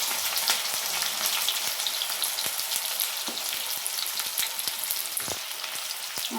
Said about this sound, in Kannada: ಈಗ ಸಾಸಿವೆ ಜೀರಿಗೆ ಚೆನ್ನಾಗಿ ಫ್ರೈ ಆಗಿದೆ. ಅದರಲ್ಲಿ ಕರಿಬೇವು ಹಾಕಿ